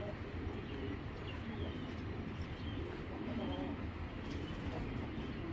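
Racing pigeons softly cooing close by, the low murmuring coos half buried in a steady, noisy background hum.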